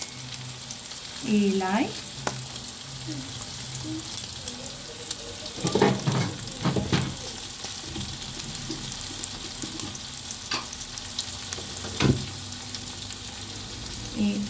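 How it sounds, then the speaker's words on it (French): Vegetables frying in a pan with onion added, a constant low sizzle broken by several louder bursts of hissing and stirring, with a brief spoken phrase. "mes légumes sont presque finis de frire. Je mets l'oignon"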